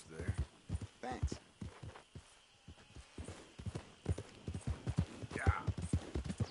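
Horse hooves clip-clop in an irregular, fairly close walking rhythm in the game Red Dead Redemption 2, with brief spoken exchanges between characters over the steps.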